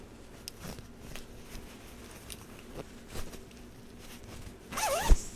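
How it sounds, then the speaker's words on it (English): Zipper on a cross-stitch project bag being worked, a series of soft, scratchy pulls and clicks, ending in one quick louder zip. "Oh my god, the zipper is giving me a hard time."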